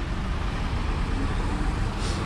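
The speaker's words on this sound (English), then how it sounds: "Traffic" Steady roadway rumble from cars and trucks rolling past on a city street, a dense low drone that holds constant with a brief hiss near the end.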